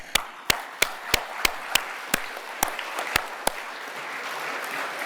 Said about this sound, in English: je pense que vous méritez aussi une bonne main d'applaudissement